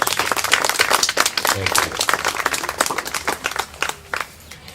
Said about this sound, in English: I think we ought to give them a big round of applause.